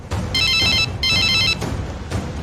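A telephone rings with two loud electronic trill bursts separated by short pauses, under a low, heavy ambient background.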